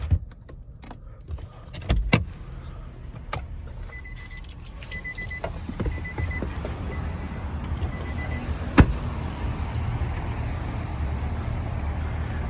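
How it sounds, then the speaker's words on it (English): Power windows on a 2022 Nissan Frontier SV whir in short motor runs inside the cab, mixed with clicks, a key jangle and low road hum, heard fairly close with no talking. "Full automatic windows."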